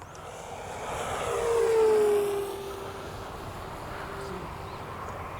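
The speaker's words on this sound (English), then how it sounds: "Now we're going to do fast pass right down the runway." A Durafly FG-1 RC plane makes a fast pass down a runway, its engine whine rising and falling in pitch as it swells past and fades, heard over steady outdoor background noise.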